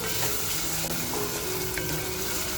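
Onion frying in a pan for a steamed egg masala, a steady close sizzle with faint stirring scrapes running through the whole short stretch, no voices.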